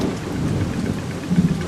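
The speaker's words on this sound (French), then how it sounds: "Il pleut abondamment." Heavy rain pours steadily with a low rumble of thunder rolling underneath, swelling briefly near the end.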